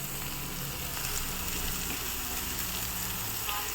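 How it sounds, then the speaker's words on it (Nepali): Cabbage fries with turmeric and chili for chicken thukpa, a dense, steady close sizzle running evenly throughout with faint stirring scrapes. "बेसार एड गरेर चाहिँ म यसरी यो बन्दाकोपी यसरी हाल्दैछु।"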